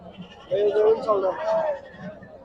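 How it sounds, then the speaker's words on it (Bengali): Goats bleat at a busy goat market, several wavering cries overlapping close by amid crowd noise and a speaking voice. "পাতি ছাগলগুলা"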